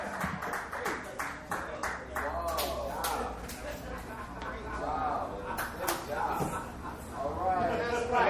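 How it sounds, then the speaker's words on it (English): A dive bar comedy crowd claps and whoops for a comedian after his set, a fairly faint but steady scatter of hand claps mixed with cheering voices. "Show some love. Another round of applause for Jon Deline."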